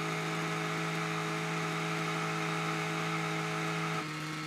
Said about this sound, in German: Einschalten und schon läuft die Motorsäge.